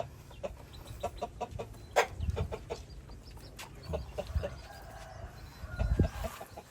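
Chickens cluck and chatter at moderate distance on a rural homestead in Laos, scattered short calls over a low outdoor rumble, with no talking.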